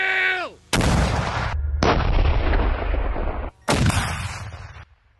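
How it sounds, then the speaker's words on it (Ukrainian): Several loud booming artillery blasts in quick succession, each a sharp crack followed by a long rumbling decay, preceded by a brief falling electronic tone. "Постріл!"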